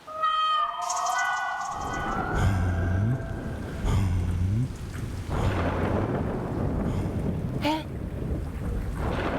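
Heavy rain with rolling thunder, a steady dense downpour under several deep thunder rumbles, loud and close, with wind buffeting the microphone and a sharp crack near the end.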